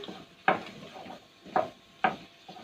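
Spices with white and black pepper being sautéed in a pan for Turkish-style lentil soup: a soft sizzle with three distinct scraping stirs of a utensil against the pan, close and moderate in loudness, no talk.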